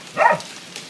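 A small dog lets out one short bark during a thunderstorm, close and fairly loud, followed by a quiet background of storm noise.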